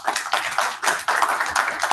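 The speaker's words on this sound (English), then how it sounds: "Give a huge applause for IEEE." Applause from a crowd, a dense patter of clapping hands that swells in waves, loud and close, with no speech over it.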